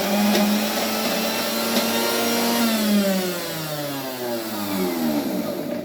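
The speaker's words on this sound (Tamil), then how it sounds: "இப்படி எடுத்து மறுபடியும் நல்லா அரைக்கலாம்" A kitchen mixer grinder churns dal and ginger into a coarse paste, its motor giving a loud, steady whirring whine whose pitch sags and wavers as the load shifts, running without pause.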